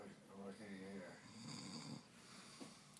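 A sleeping man snores in slow, rough breaths, each drawn-out rasp rising and fading, fairly quiet and close, with no other sounds competing.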